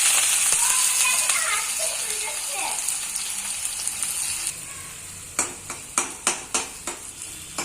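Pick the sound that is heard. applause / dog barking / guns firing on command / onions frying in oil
onions frying in oil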